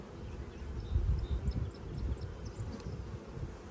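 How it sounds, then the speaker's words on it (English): Honey bees hum softly on a hive frame, a faint continuous low drone with a few light knocks and no talking. "Has a lot of bees."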